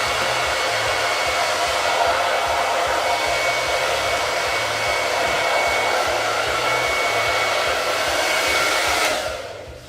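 A hair dryer blows steadily and loudly up close over a freshly painted rustic farmhouse porch sign, a constant whooshing roar for nearly ten seconds before it cuts off at the end.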